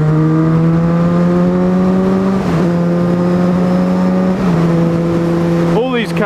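Cars on the road passing a motorbike as it overtakes them, with a steady engine drone throughout and a couple of whooshing swells as vehicles go by, heard loud and close.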